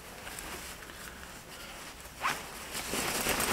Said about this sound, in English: Over here we got an inside zipper pocket right here.